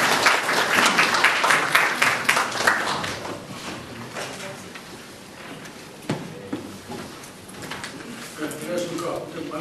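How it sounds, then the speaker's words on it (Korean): A lecture audience claps to welcome a university professor, scattered applause that starts strong and thins out over several seconds, with some speech-like sounds in the hall toward the end. "교수님 나오실 때 환영의 박수 부탁드리겠습니다."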